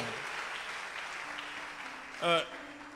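A church congregation applauds and acclaims God during a sermon, a continuous wash of clapping from many hands with a brief loud vocal shout near the end.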